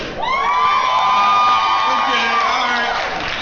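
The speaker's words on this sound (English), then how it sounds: "So we're going to get a whole lot of cheers, a whole lot of applause" A lively crowd cheers and whoops, with high sustained shouts and yells rising together and holding loud for a few seconds before easing off, voices blended into one roar.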